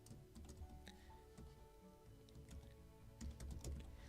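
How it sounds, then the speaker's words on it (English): Rapid, soft clicking of keys on a computer keyboard, steady and continuous typing heard close but faint, with no talking. "And I'm going to type it here for you."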